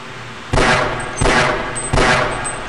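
Three loud, evenly spaced gunshots in Half-Life, each a sharp blast with a ringing tail before the next, close and alone with no talk.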